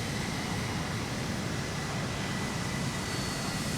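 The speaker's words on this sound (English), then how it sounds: "With the scream of dying engines, the Thunderhawk alighted." A Thunderhawk gunship's engines roar in a dense, unbroken jet-like rush as the craft comes down to land in a dark sci-fi war setting, loud and steady throughout.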